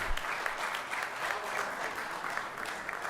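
Audience applause at the Abu Dhabi mushaira Urdu poetry gathering, a continuous even patter of many hands clapping from a hall crowd, moderately soft and steady throughout with no talk.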